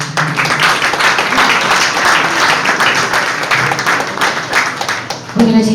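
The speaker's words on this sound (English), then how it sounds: "You can please give a round of applause to those who won." Loud audience applause for political award winners at a ceremony, a thick sustained wash of clapping from a large crowd, with a voice starting to speak just at the end.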